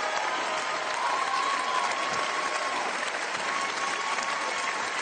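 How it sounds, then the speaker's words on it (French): Audience applause for Michel Fugain at a large televised French choir concert, a dense, continuous wash of clapping from a big crowd, loud and even throughout without speech. "Je vous demande d'applaudir encore Michel Fugain"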